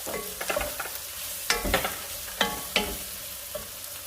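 Garlic sautéing in a pan for a creamy shrimp pastalaya sizzles steadily while a utensil scrapes and stirs in a few sharp, close bursts.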